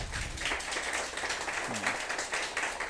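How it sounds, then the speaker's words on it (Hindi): Seminar audience clapping for an MPPSC assistant professor exam preparation session, a steady patter of many hands that is moderately loud and continuous throughout. "तो एक बार सबके लिए ताली बजा के दिखाइए जरा"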